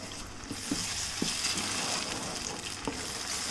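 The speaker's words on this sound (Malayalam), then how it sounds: "നമുക്ക് ഈ നെയ്യിലേക്ക് നമ്മൾ ഈ അടിച്ച് വെച്ചിരിക്കുന്ന ഈ പഴത്തിൻ്റെയും ഈ ഗോതമ്പിൻ്റെയും മിക്സിങ് ഉണ്ടല്ലോ അതിതുപോലെ ഒഴിച്ചു കൊടുക്കാം" Banana and wheat flour batter poured into hot ghee for banana halwa, giving a soft continuous sizzle with a few faint clicks and scrapes, close and moderately quiet, with no talking.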